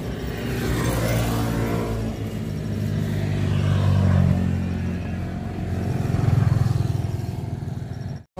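A fully loaded motorcycle riding along, its engine a steady, close rumble with rising and falling revs throughout, ending abruptly.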